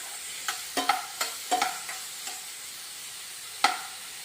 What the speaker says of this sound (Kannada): ತುಪ್ಪದಲ್ಲಿ ಪೈನಾಪಲ್ನ ಬೇಯಿಸುವ. ಹೈ ಫ್ಲೇಮಲ್ಲಿಟ್ಟು ಫ್ರೈ ಮಾಡಬೇಕು.